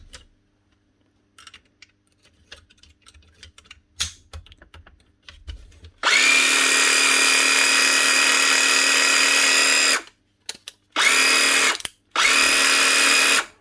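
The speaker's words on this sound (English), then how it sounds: "One Dewalt DCS331 Type 3 18 volt brush jigsaw." A repaired Dewalt DCS331 Type 3 18 volt cordless jigsaw runs after faint clicks and handling, giving one long loud whine, then two shorter bursts with brief pauses between them.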